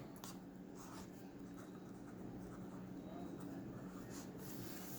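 Pencil or marker scratching across paper while sketching a jack-o'-lantern, a steady continuous scraping texture with faint strokes throughout, close and quiet with a low background hum.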